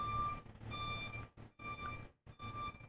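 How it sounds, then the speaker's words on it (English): Trucks reversing on a Brooklyn street outside, a faint, distant series of high electronic beeps repeating in regular pulses with brief gaps between them. "As the trucks serenade us from the street."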